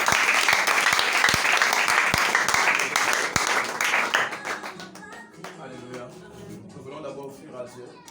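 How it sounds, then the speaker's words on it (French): A church congregation at a seminar service breaks into loud, dense applause for several seconds, which then thins out as a voice begins talking over the fading claps. "Acclamons."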